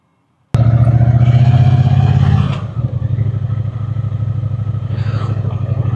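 A Triumph T120 Bonneville motorcycle starts up close by with a sudden loud engine rumble, throbbing steadily, easing briefly, then picking back up as it pulls away, with wind noise over the engine.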